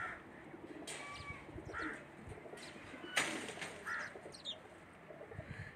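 Pigeons coo softly from a rooftop loft, low repeated calls mixed with scattered higher chirps and a brief flutter, over steady outdoor background noise.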